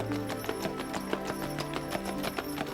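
A team of working horses walks close by, hooves clip-clopping in a steady, fairly quick rhythm of sharp knocks over a low background hum.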